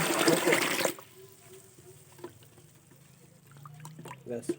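Water is poured over live koi fish bought at the market: a loud gushing pour for about a second, then quieter trickles, drips and small knocks, with faint voices in the background.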